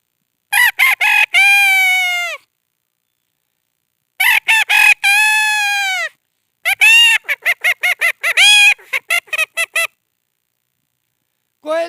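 A man imitates a rooster crowing with his voice, giving several loud, drawn-out harmonic crows and quick clucking bursts separated by silent pauses, close and clear with no other sounds.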